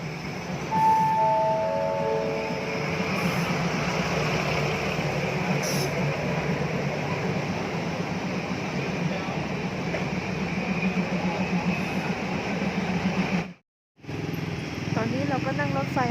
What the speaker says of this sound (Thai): นั่งรถไฟมาจากมหาชัยนะคะมาลงตลาดภูแล้ว